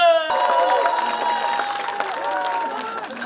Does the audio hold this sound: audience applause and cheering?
yes